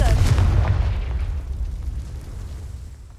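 A Confringo fire spell bursts in the Hogwarts Legacy game: one loud, deep boom at the start that rolls off into a long, fading low rumble.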